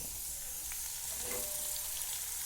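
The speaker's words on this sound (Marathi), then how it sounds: "हे कारले मी चांगले तेलात होऊ दिले" Bitter gourd frying in oil in a pan, a steady, close hiss of sizzling with faint stirring touches, even and unbroken throughout.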